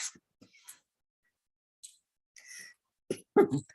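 A few soft clicks and breathy noises in near silence, then a couple of short, rough coughs close by near the end.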